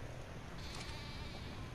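Sheep bleating inside the video game ARK, a steady noisy bleat from livestock that fills the short stretch on its own, with no talk over it.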